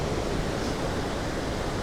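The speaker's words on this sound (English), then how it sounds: "it is an extremely stunning, beautiful waterfall." Rhiwargor waterfall in Wales, a steady broadband rush of falling water, moderately loud and continuous with no other sounds.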